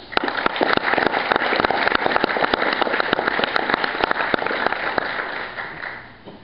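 Dense, sustained applause from a large crowd, loud and steady throughout before tapering slightly at the end.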